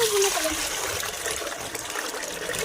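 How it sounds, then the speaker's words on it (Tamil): Water splashes and trickles steadily, close by, a continuous pouring gush with a faint voice at the start. "நாங்க தண்ணி ஊத்த போறோம்."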